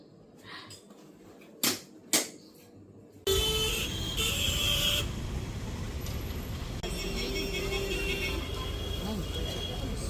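Traffic on a busy market street as a booked cab pulls up, with car engines rumbling steadily and a few short horn toots, beginning with quieter background and sharp isolated bursts before a louder continuous roar of passing vehicles.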